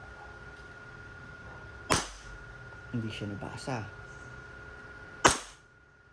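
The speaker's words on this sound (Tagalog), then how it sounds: "So, nakatatlong putok ako." Two sharp, loud pops from a WE 5.1 Hi-Capa Type B airsoft pistol, spaced a few seconds apart and fired close to the microphone, with a person talking between them.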